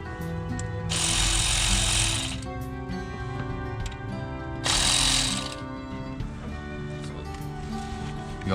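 Power tool loosening the alternator bolts on a 2007 Lincoln Navigator or Ford Expedition with the 5.4 engine, two loud close whirring bursts of about a second each over a steady background hum.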